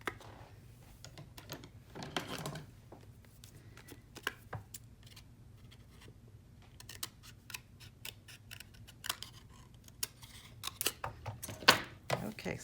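Scissors trim excess paper in a sequence of crisp snips, quiet and close, spread irregularly across a stretch of paper crafting with clustered cuts near the end.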